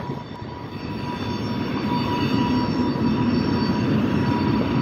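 An Advinsix RSSX train rumbles steadily past on the rails, a loud continuous roar with metallic wheel noise and faint high squeals, no voices.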